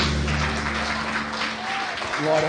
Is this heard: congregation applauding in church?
yes